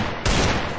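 A gun fires in the Free Fire battle game: one loud, close, sharp burst that starts abruptly and stays dense for under a second.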